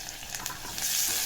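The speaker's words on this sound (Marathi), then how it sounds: "याला पण छान तेलामध्ये फ्राय करून घ्यायचं आहे" Chopped tomatoes with curry leaves frying in oil for a gargatta of fenugreek and dill greens, a steady close sizzle with soft stirring scrapes that grows louder toward the end.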